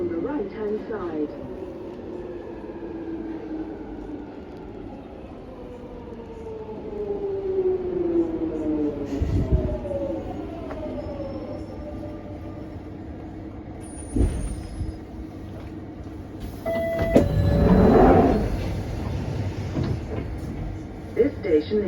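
A London Overground train runs toward Stratford with a rumbling, whining drive tone that rises and falls in pitch, punctuated by sharp clanks and a loud hiss of air, while people talk underneath.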